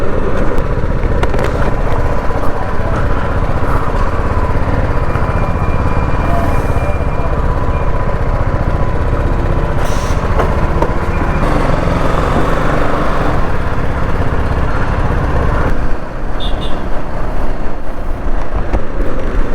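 A Suzuki V-Strom 250 SX motorcycle is ridden along a road, with a loud, unbroken engine drone blended with heavy wind rush for the whole stretch.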